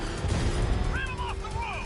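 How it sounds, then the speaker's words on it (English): Enemy gunfire in the video game Batman: Arkham Knight, a dense low rumbling barrage of booms and bursts with brief tonal chirps layered on top, loud and continuous through the short stretch. "I'm taking enemy fire."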